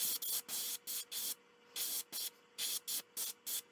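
Short bursts from a spray can or airbrush coating a wooden Atlantic croaker crankbait lure in pearl satin gold, a dozen crisp hissing puffs in a quick, uneven rhythm with brief gaps.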